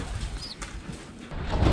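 A pigeon coos softly inside a loft during pest-control trapping, with a few faint chirps and some rustling amid light background noise.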